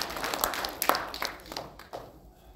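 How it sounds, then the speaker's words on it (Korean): Scattered hand claps from a seated audience at a political gathering in a Seoul press center, a brief loose patter of claps that thins out and fades within a couple of seconds. "박수 부탁드립니다."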